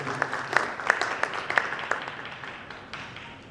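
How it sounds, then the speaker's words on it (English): At a business event, an audience applauds a guest joining the stage, a moderate round of crowd clapping with distinct individual claps in the first half that fades and thins out toward the end. "Let's clap for him as he joins us in the stage"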